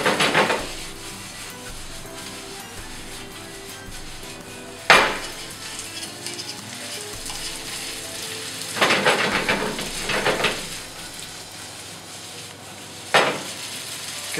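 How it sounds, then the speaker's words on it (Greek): Chicken fillets sizzling in a pan are stirred, a steady frying hiss broken by a few loud utensil scrapes and clanks against the pan. "Κάνουμε για 1 λεπτό ένα ανακάτεμα"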